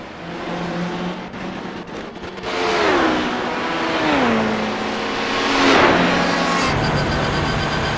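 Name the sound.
race cars pulling into the pits, from a racing video game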